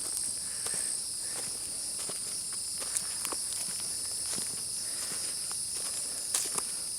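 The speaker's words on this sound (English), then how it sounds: "The crickets are my firework sounds." Crickets chirp in a steady, high, continuous chorus in summer woods, with occasional soft footsteps and rustles close by underneath.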